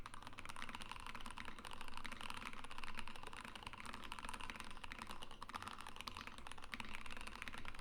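Rapid typing on a Monokei x Singa Neko prototype mechanical keyboard, a dense stream of crisp clacking keystrokes at a steady fast pace, close up with no talking.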